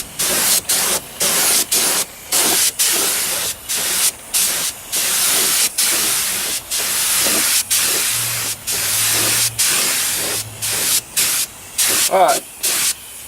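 A sprayer lays down a light coat of non-skid coating in loud, close bursts of hissing spray separated by brief gaps. A low voice murmurs partway through.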